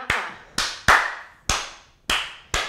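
A dance class clapping a rhythm together, six sharp, loud group claps in a syncopated pattern, each with a short ringing decay in a reverberant room.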